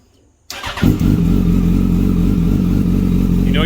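A Yamaha R1 sport bike, fitted with a Power Commander 3 and a cat delete, cranks briefly after silence and catches, revving up before settling into a loud, steady close idle.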